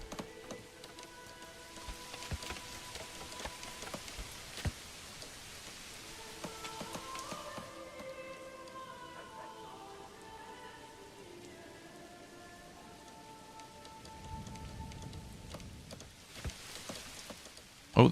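Rain falls steadily over the village in the medieval city-builder Manor Lords, a soft continuous patter under music, with a low rumble swelling briefly near the end.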